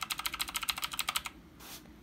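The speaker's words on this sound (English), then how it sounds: "Red switches on the keyboard." Rapid clicking of a Red Dragon keyboard with red switches, a steady run of about a dozen crisp, close keystrokes in quick rhythm, then a pause and one last softer key press.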